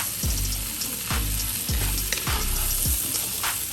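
Carrots and celery fry in a pot with a steady, loud sizzle, broken by repeated scraping knocks as the vegetables are stirred about every half second.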